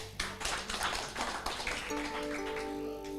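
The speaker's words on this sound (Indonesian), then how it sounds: "Kurang keras, tepuk lagi deh." A church congregation claps together during a worship service, a dense burst of many hands sounding steadily across the room, with a sustained keyboard chord entering midway beneath the applause.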